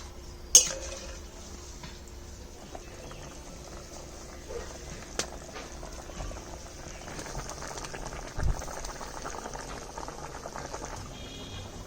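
Bengali-style fish curry gravy simmers in a pot, giving a faint steady bubbling and fizzing with a few louder isolated pops and clinks, and no voices.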